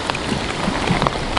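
Rain patters on a tent set up on a platform at a fishing spot, a steady, close hiss of drops with a few slightly louder individual hits and no voices.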